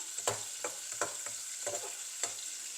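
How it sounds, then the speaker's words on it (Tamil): Prawns fry in oil for biryani, making a soft, fairly faint sizzle with about half a dozen scraping stirs spaced irregularly through it. "இப்போ பொரியுது"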